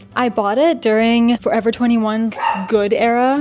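A pet dog barks and yips repeatedly in an indoor room, loud and close, the sharp barks overlapping with someone talking.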